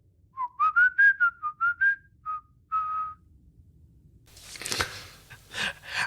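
A person whistles a short, bouncy melody of quick separate notes from the 1812 Overture, clear and close, followed by some rustling and crunching.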